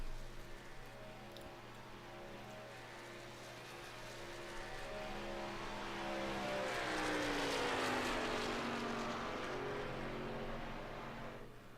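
A race truck laps the Daytona oval in the IROC Challenge Truck Series, its engine droning steadily, then swelling louder and sweeping past with a rising, pitch-bending whine before fading slightly.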